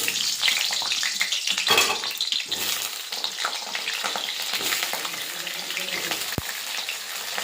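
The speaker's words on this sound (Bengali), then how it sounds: "এবার আলুটা ভেজে নেব" Potatoes frying in mustard oil in a wok for biryani, a loud, close, continuous sizzle with stirring scrapes and a sharp knock near the end; no one speaks.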